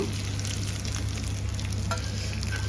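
Fish frying in a pan for a home-style fried fish recipe, a steady close sizzle crackling evenly throughout with a low hum underneath and no voices.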